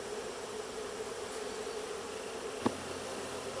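Honey bees buzz inside a hive box during an inspection, a steady close drone with one brief knock near the end.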